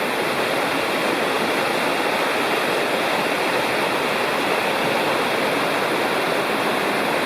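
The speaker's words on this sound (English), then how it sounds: "Another great little gorge and small waterfalls." Small waterfalls tumbling through a little gorge in the Lost Cove Wilderness, a continuous loud broadband rush of water heard up close, steady and unbroken with no voices.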